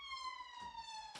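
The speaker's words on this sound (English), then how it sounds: "I think it's a police or ambulance." A police car or ambulance siren sounds outside, a steady high wailing tone with a slow pitch glide held for about a second, moderately loud with no talk over it.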